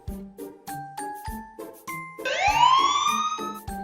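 A rising, wailing fire truck siren in a children's vehicle-words lesson sweeps upward over a bouncy tinkling musical backing, loud and close, with no talking over it.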